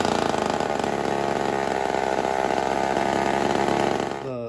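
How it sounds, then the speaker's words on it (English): A ported Homelite XL-76 chainsaw engine with a lean high-speed carburetor circuit runs loud and steady at high revs close by, then drops off near the end. "Definitely a lot of troubleshooting with Bodie's XL-76."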